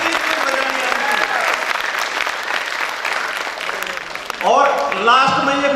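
Audience applause at a live comedy show at an office in Jaipur. The crowd claps steadily for about four seconds, then a voice begins talking over the tail of the clapping.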